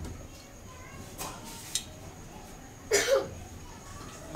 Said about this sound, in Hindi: मेरी बेटी को खांसी हो रही है